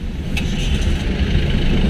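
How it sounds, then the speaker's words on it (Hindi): A tractor engine runs steadily on the road at Chadoora, a continuous low mid-range rumble close by with a brief higher tick early on. "ये है ट्रैक्टर"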